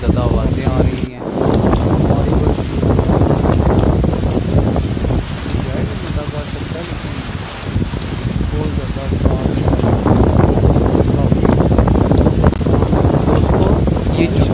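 Heavy rain and strong, gusting wind lash the docks in a storm, a loud, continuous roar with constant wind buffeting on the microphone and a voice talking underneath.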